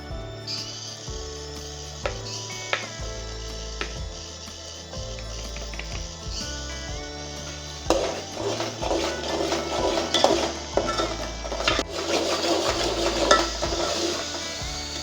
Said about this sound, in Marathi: हे छान परतून घेऊया